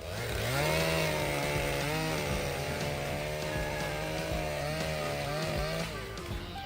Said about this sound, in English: the Stihl MS261 chainsaw with a 28-inch bar is a force to be reckoned with, easily tackling big timber challenges.